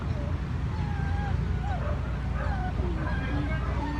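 Many rescued dogs packed in a van whimper, yip and cry in overlapping high-pitched whines, with occasional barks over a constant low rumble, close and persistent, while a person speaks softly among them.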